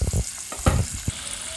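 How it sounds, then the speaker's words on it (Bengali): Parboiled potatoes frying in oil until reddish, a close, loud sizzle broken by a few sharp stirring knocks. "এবার আমি আলুগুলো লাল করে ভেজে নেব।"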